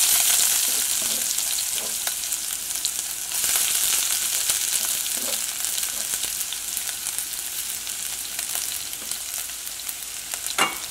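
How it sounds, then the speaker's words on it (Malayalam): Sliced onion fries in hot oil with mustard seeds in the pan, making a steady loud sizzle that fades slightly over time, with a few stirring scrapes and clicks. "ഇനി ഇതിലേക്ക് നമുക്ക് സവോള ചേർക്കാം"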